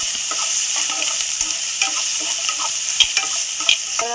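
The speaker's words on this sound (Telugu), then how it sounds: "తర్వాత సన్నగా తరిగి పెట్టుకున్న ఆలు ముక్కలు వేసుకున్నాం. ఎందుకంటే ఇవి ఫ్రై అవ్వాలి" Thinly sliced potato pieces frying in oil in a pan for an egg samosa filling: a steady, close sizzle with scattered small pops and occasional clicks of stirring, no voices.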